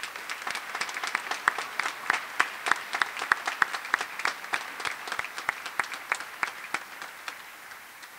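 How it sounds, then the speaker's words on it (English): An audience applauds university musicians at a graduation ceremony: a sustained round of many hands clapping at moderate distance, dense and even throughout and slowly easing off toward the end. "applause as they will be leaving us now."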